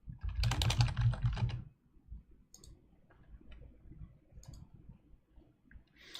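Rapid typing on a computer keyboard during a Windows 10 software installation, loud dense keystrokes for about a second and a half, then sparse, quieter clicks over low room hum.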